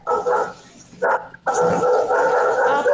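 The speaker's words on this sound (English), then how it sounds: "we can hear the dog barking at the background" A dog barks in bursts in the background of an online call, loud yips and barks with short pauses between them, with no one speaking over it.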